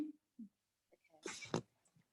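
A single quiet, sharp sneeze bursts out indoors at a relaxed ladies' night gathering, preceded by a few soft murmurs.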